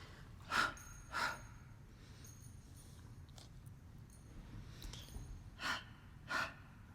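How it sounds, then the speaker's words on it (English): Soft breathy exhales from someone doing a Pilates mat core workout come in separate puffs spaced a second or more apart, close but quiet over a low background hum. "Try to have relaxed lips when you exhale in Pilates."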